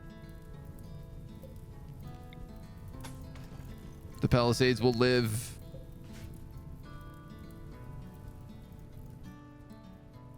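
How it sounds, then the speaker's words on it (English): Rain falls in the video game Rimworld as a soft, steady patter throughout. Someone speaks briefly over it in the middle. "The rain! The rain is here."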